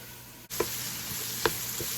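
Sausage frying in a pan with melted butter and slightly burnt onions: a steady close sizzle throughout, with a brief dip and a couple of light utensil taps.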